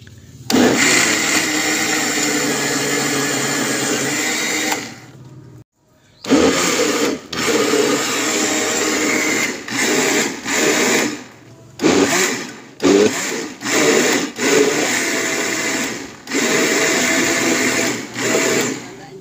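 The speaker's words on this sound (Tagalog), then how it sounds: "Then i-blend ulit natin." Electric blender running on a jackfruit jelly mixture in a home kitchen, a steady loud whir that stops briefly around five seconds, then restarts in several short bursts with brief pauses between them.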